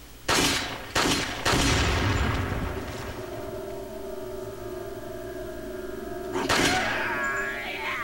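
Handgun shots in the video game Resident Evil 4: three sharp reports in quick succession, then a pause and a fourth shot, loud and close over low ambient game noise.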